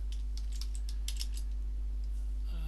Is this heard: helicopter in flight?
no